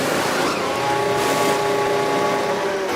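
Pit stop in F1 Manager 24 at Hungary as hard tyres go onto the car: steady loud engine and mechanical drone with some hiss throughout, no voices.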